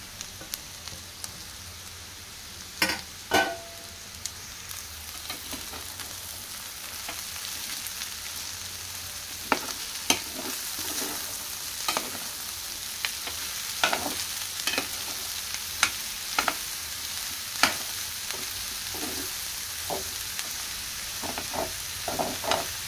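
Two chopped medium onions sizzling in a pan for a taro root curry, a continuous crackling hiss punctuated by sharp taps and scrapes of a spatula against the pan at irregular intervals, close and moderately loud with no talk.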